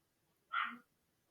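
A single short dog bark, one clear yip-like woof at moderate distance against an otherwise quiet background.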